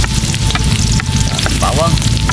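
Ginger and onion frying in a pan make a loud, dense, continuous sizzle close by, with a faint whistling chirp near the end.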